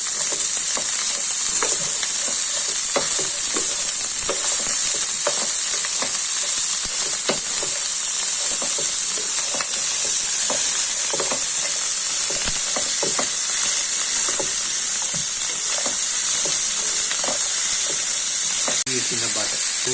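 Carrot and asparagus fry in butter over low heat, a constant bright sizzle with frequent scraping and stirring clicks from close by.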